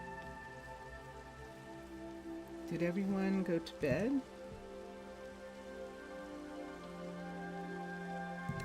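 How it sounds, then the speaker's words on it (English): Rain patters steadily in modded Minecraft, a soft continuous hiss running under someone speaking briefly partway through. "oh, it's raining."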